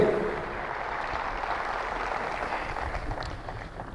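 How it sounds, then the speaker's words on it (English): Soccer players at a training session give a steady round of applause, a dense, even wash of clapping lasting throughout and fairly close. "give them a big hand of applause"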